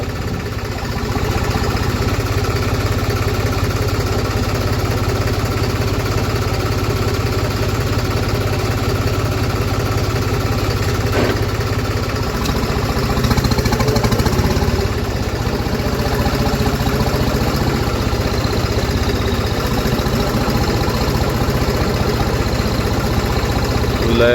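A Mahindra Arjun tractor engine idles steadily throughout, a low continuous rumble with a slight rise in intensity partway through.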